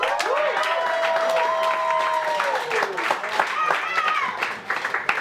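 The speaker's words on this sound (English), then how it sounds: "Your host for the evening, please do a lot of clapping if you would." A comedy club crowd claps and cheers as the host takes the stage. Loud, dense applause is mixed with whoops and shouted voices, and individual claps stand out as the cheering eases.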